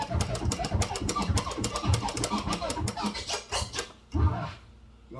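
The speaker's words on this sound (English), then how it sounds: "That's called an orbit. It's like even more advanced than the flare." Slow orbit scratches on a DJ turntable, a run of rhythmic forward-and-back record strokes with clipped chirping cuts, steady and fairly close, alone without talk, ending with a short pause and one final stroke.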